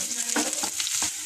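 Chopped garlic and ginger fry in hot oil in a pan, giving a steady close sizzle with soft stirring scrapes.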